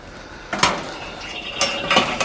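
A lid lifter lifts the lid off a cast iron camp oven, making a few close, brief metallic clanks and scrapes, one at the start and a pair near the end.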